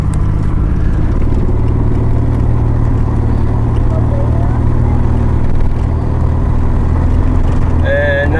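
Nissan 300 car engine while driving, heard from inside the cabin: a loud, steady low drone and road rumble throughout, with faint voices and brief higher tones near the end.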